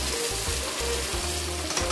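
Fresh orange juice poured into hot caramel and butter in a pan bursts into a loud, steady, close sizzle with low bubbling underneath, alone for under two seconds.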